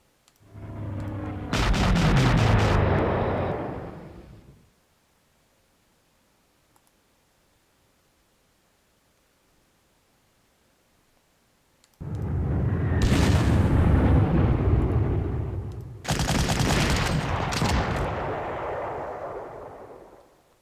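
Air strike explosions in the Panzer Corps World War II strategy game, loud booming blasts with rumbling tails in two groups separated by a long quiet gap, no talk.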